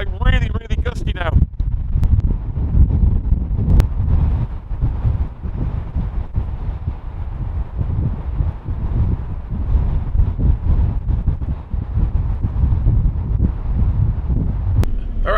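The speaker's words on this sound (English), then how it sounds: "the winds are very strong now off the lake, as you can hear" Strong, gusty wind blows off the lake during lake effect snow, a steady low roar buffeting the microphone throughout, with a voice talking near the start.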